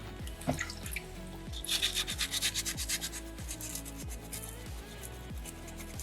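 A soapstone block is scrubbed with a carving tool, producing close rhythmic rasping strokes in a burst of quick back-and-forth rubs, over a repeating low mechanical pulsing background.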